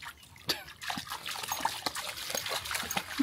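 A dog splashing and paddling through muddy water in an overfull spot, with sharp close splashes and trickling between them, no talk.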